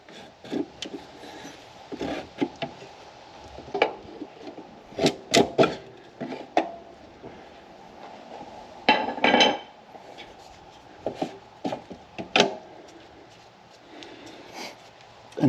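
Large pry bar working a tight alternator bolt on a Subaru, producing scattered metallic clanks, knocks and scrapes in irregular bursts with quieter pauses between them.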